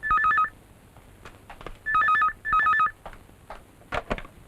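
A telephone rings with a warbling electronic tone in three separate bursts, each about half a second long, with quiet clicks and room noise between them and no speech.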